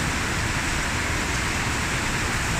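Heavy rain pours steadily, a loud unbroken wash of noise with no talking.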